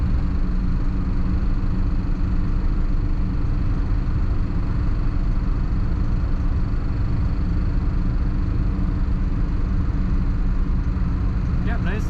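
A 1957 Cadillac Series 62 Coupe cruises at about 55 miles per hour, heard from inside as a smooth, steady low road rumble and engine hum, with no clear voices.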